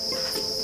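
Crickets at a cricket farm chirp in a steady, high-pitched, continuous trill, close and clear with no voices.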